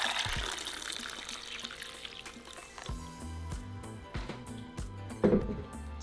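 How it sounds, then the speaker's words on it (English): Water runs into a small saucepan holding tomatillos and tomatoes, starting as a faint trickle and turning into splashy filling with a few clinks of the pan, close by and with no talking. "we're going to add our tomatillos and tomatoes into a small saucepan, and we're just going to cover them with water"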